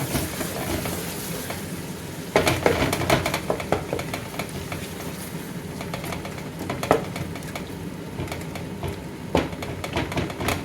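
Chicken curry masala with dry coriander and ground garam masala sizzles in a pan while a spoon stirs it. Continuous close frying hiss is broken by repeated scraping strokes and clacks.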